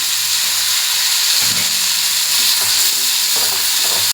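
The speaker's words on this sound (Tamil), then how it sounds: "வெங்காயம் இந்த அளவுக்கு நல்லா பதமாக வதக்கின பின்னாடி அடுத்து தக்காளி போடுறாங்க" Tomatoes tossed into sautéed onions for a dry fish gravy hiss and sizzle loudly in the pan, with close stirring scrapes over the constant frying.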